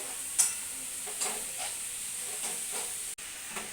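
Hakka noodles stir-fried with chili sauce and vinegar over a gas flame, a steady close sizzle and hiss with soft periodic scraping strokes of the stirring, one brief dropout near the end.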